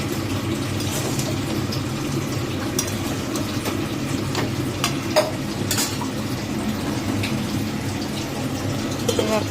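Vegetable curry fries in a pan on the stove with a steady low sizzle, while a spoon scrapes and stirs at intervals, producing scattered clinks and scrapes over the constant hiss.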